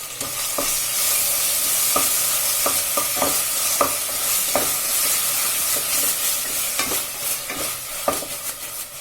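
Masala and red chili powder frying in hot oil while being stirred, a loud, continuous close sizzle broken by repeated clicks and scrapes of the spoon against the pan.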